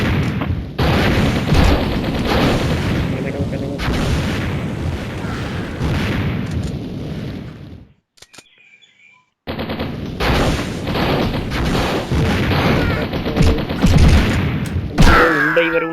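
Heavy gunfire and bomb blasts rattle through a Mini Militia game match, dense and loud, with a brief silent gap midway before the barrage resumes.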